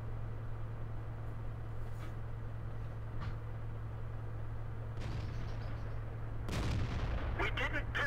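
A Panther tank's cannon fires in World of Tanks, one heavy booming shot near the end over a constant engine drone, followed by clattering impact noise. Fainter distant shots come before it.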